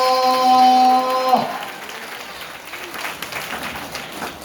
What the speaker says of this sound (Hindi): जोरदार ताली बजा के हालेलुया।